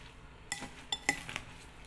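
A utensil stirs food in a bowl, giving a few light metallic clinks against the dish, close but quiet, with short pauses between taps.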